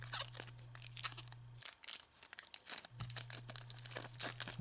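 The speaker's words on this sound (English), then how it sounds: "And we get the plastic off" A plastic sleeve is peeled and torn off an Amazon-branded 12-watt wall plug, producing close, quiet crinkling and crackling in bursts with a brief pause midway.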